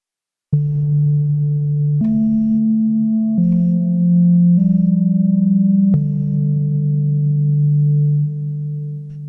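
A sustained Korg NTS-1 synthesizer tone shifting through several pitches in steps, each note washed in long reverb with timing and depth at maximum that lingers and slowly fades at the end.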